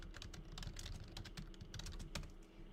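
Fast typing on a computer keyboard, a quick irregular stream of close, crisp key clicks running steadily throughout, with no talk.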